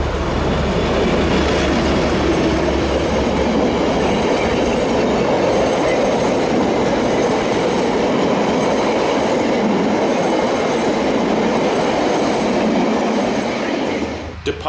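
An excursion train rumbling along the rails across the Canterbury Plains near Rolleston, out of Christchurch, as a loud, steady, close roar of wheels and carriages that continues without a break and eases only at the very end.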